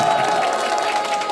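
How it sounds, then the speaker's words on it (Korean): A crowd applauds and cheers at a Seoul Gangseo district mayoral candidate's press conference, a steady dense wash of clapping and voices filling the whole short moment. "여러분의 열화와 같은 성원과 박수를 부탁드리겠습니다. 다시 한번 박수!"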